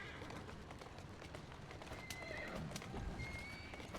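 A horse gallops with rapid clip-clop hoofbeats and whinnies in a video game, faint and continuous, with a few thin tonal game sounds over it.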